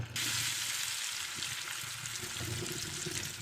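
Chopped onion sizzles steadily in a hot pan as the base for a tuna soup, a dense, even hiss heard close up with no talking.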